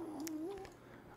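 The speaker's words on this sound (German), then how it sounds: "Das Katzengeräusch." A cat sound from a video game, heard as a single drawn-out, wavering meow-like tone at moderate volume, alone with a faint background hum and no talking.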